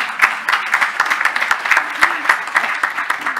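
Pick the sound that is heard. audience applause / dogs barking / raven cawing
audience applause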